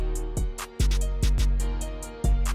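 Trap beat programmed in FL Studio with three quick kick drums placed before the clap, punchy booming kicks alternating with sharp hi-hats and claps in a tight loop, loud and clear with no voices.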